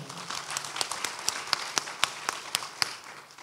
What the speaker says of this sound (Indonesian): Mari kita kasih tepuk tangan buat jawabannya.